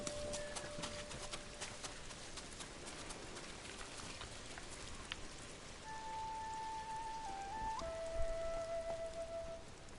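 Soft, steady rainfall patters throughout a scene in the video game Ghost of Tsushima, quiet and even, with a few sustained musical tones drifting over it.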